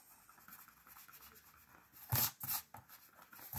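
A pencil draws a short line for a paper gift box project, giving two or three quick, close scratchy strokes near the end after a stretch of quiet room tone.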